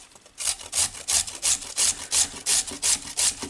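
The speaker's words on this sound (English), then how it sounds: "I'll use the small grate side for, I grate my garlic when I put it in" Garlic for white kimchi is grated on the small side of a box grater, producing about ten rhythmic rasping strokes at an even pace, close and alone with no speech.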